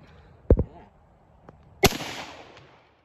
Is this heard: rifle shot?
yes